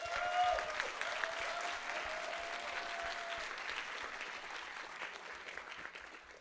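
Sustained applause from a crowd, a dense, even wash of clapping that holds steady and slowly tapers off, with a faint tone near the start.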